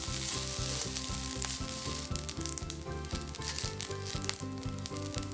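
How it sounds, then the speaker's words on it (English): Steamed yakisoba noodles sauteing in a pan over medium heat give a steady, loud sizzle and crackle with brief stirring scrapes, set against a constant low background hum. "Saute the noodles on medium heat."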